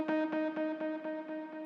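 A single distorted Yamaha CP electric piano note run through delays and reverb, holding a steady buzzy tone with rhythmic echo pulses repeating about four times a second, fairly quiet and alone.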